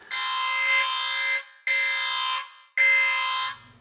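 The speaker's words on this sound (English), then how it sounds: "So that was my skepticism alarm." An alarm sounds three loud, harsh, buzzing blasts of about a second each, evenly spaced with short gaps, alone and with no background noise.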